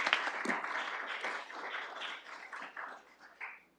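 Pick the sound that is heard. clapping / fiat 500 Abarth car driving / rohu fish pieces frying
clapping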